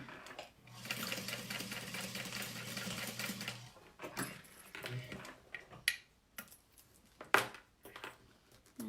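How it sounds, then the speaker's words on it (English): A sewing machine stitches a saddle bag corner to corner, running in one steady close whir for a few seconds before breaking into short, separate bursts of stitching. "I'm just going to sew from corner to corner."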